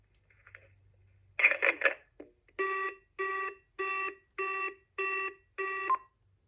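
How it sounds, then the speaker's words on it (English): A DECT 6.0 cordless answering-system handset is set down into its base with a short plastic clatter, followed by six evenly spaced electronic beeps from the base, with no talking. "I'm actually going to go over and hang up the testing phone into its base so we can hear how that sounds"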